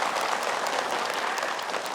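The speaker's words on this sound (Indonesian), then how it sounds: "Ya, tepuk tangan." A studio audience applauds during a religious television program, a steady, even wash of clapping from many hands that holds at the same level throughout.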